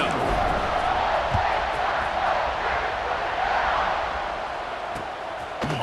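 Stadium crowd roaring steadily in EA Sports College Football 26 before a kickoff, a dense sustained wash of cheering voices at moderate level that eases slightly toward the end.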